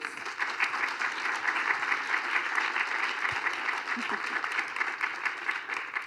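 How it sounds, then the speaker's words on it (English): Steady applause from a conference audience honoring climate and ocean panelists at a thematic session, dense and even throughout with no voices over it. "Let's give them a round of applause."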